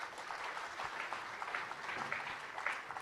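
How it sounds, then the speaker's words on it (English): Audience applause for panelists at a pensions conference, steady clapping from a crowd heard at a distance and fairly faint, continuing evenly for about three seconds. "a big round of applause to all the panelists"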